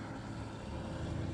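An R6 engine holds a faint, steady droning hum for the whole stretch, with no clear rise or fall in pitch.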